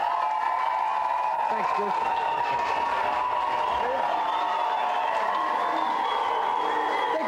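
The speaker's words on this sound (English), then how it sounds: "Big round of applause for Ian." A 1993 television studio audience for a video game show claps and cheers loudly and continuously, with whoops and shouts over the applause while a voice speaks briefly on top.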